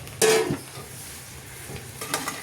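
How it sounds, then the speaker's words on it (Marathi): A spoon scrapes through semolina sheera in a pan with a short scrape at first, then quieter stirring over a faint sizzle. "आता हे छानपैकी आपण हलवून घेऊ."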